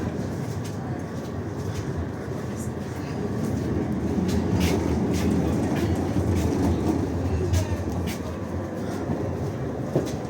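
A new Swiss tram from Bern, now running in Lviv, rumbles steadily from inside the car, with a constant rolling roar and faint clicks from the rails.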